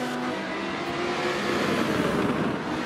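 Race cars, including a Lamborghini and an Audi, roar in the Forza Motorsport 7 video game at the Brands Hatch circuit. The engine drone is continuous and fairly loud throughout.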